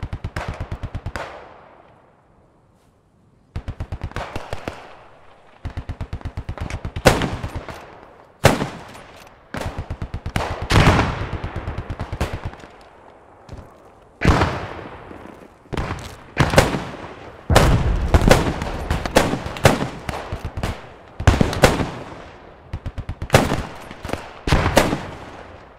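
Bren light machine gun firing repeated short bursts, loud and close, with brief gaps between volleys and a few rapid strings of shots building in density toward the end.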